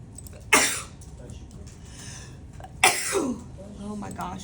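Two sharp sneezes from a person indoors, one near the start and another about two seconds later, each loud and abrupt with a short breathy tail, set against quiet room tone.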